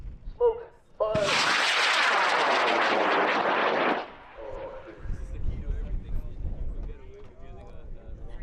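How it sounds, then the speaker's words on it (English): A two-stage high power rocket kit on an F-15 motor ignites at a launch site, its roaring exhaust bursting in loud and steady for about three seconds before cutting off, followed by lower rumbling and distant voices. "Let's put Art's rocket up in 5, 4, 3, 2, 1, launch. Smoke, fire"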